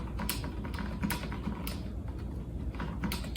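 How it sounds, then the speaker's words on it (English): Soft, rapid key taps on a quiet full-size membrane keyboard, muffled clicks in irregular bursts over a low steady hum, no voices. "But this one is a very quiet keyboard. Quick sound test."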